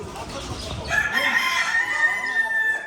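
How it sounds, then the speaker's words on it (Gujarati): A white rooster crows once, loud and near, its long drawn call rising after a second of low background chatter and holding steadily to the end. "કુકડા"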